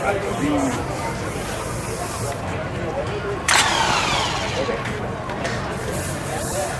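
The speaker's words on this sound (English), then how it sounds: "Spins the input shaft, spins the crank, turns the motor over." A starter cranks the engine of a 1977 McLaren M24 Indy 500 race car, No. 9 in Cam2 colours, a loud whirring turnover heard over steady background voices and shop noise.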